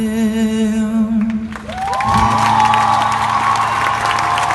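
Applause and cheering from a live concert audience swell up as the music stops, then hold as a loud, dense wash of clapping and whoops.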